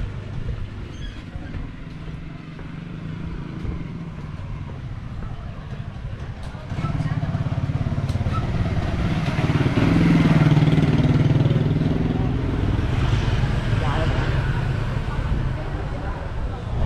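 A motorcycle engine rises as it passes through a narrow alley in Hoi An, Vietnam, swelling midway and then easing off, heard beneath a person talking throughout.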